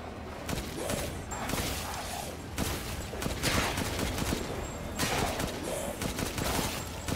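Rapid bursts of gunfire in the video game Resident Evil Village crackle repeatedly in clusters, fairly loud with a busy, echoing background between volleys.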